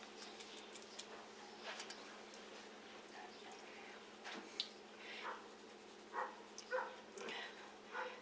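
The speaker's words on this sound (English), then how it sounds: "I have a puppy across the street who likes to hear his own voice, and so barks all the time." A puppy across the street barks in short, faint, distant bursts, scattered irregularly over a quiet indoor background.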